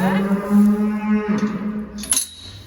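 A cow in a calving pen lets out a long, loud, close moo that fades, followed by a brief metallic clink of chain or gate.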